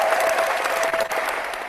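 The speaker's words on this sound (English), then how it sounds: "So a round of applause." A short round of applause from a small group at a birthday gathering, brisk clapping lasting under two seconds with a faint tone running underneath.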